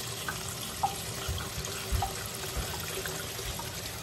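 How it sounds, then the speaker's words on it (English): Tap water runs steadily into a sink while lettuce and fresh herbs are gently rinsed, a continuous close splashing hiss with a few small knocks and drips, no voices. "So just gently rinse and then grab it out in a strainer"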